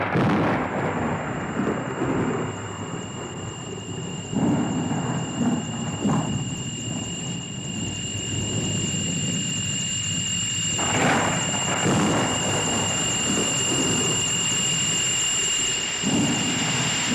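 Steady rain with rolling thunder in a night storm, a constant wash of falling water underneath deep rumbles that swell and fade, loudest around the middle and near the end, with no talking.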